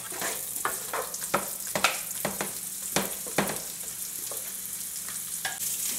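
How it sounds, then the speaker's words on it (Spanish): Onion rings and sliced garlic sizzle steadily in olive oil mixed with chorizo fat while a utensil stirs, knocking the pan in scattered sharp clacks over a continuous close frying hiss. "Y continuamos sofriendo la cebolla en aros."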